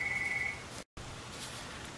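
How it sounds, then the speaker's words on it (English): A telephone rings indoors during peg loom weaving work. A single steady electronic tone sounds for about half a second, moderately faint, followed by a brief silence and then quiet room noise, with no voices. "the phone keeps ringing"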